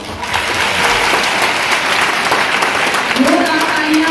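Crowd clapping for a third-place prize winner at a town council festival celebration, a loud, continuous round of applause with some voices mixed in and a short tonal sound near the end.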